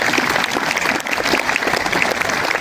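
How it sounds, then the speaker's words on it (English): A live audience claps loudly and steadily at a school event honoring an international under-21 soft tennis silver medalist, with dense, continuous applause throughout and no speech over it. "So give a huge round of applause."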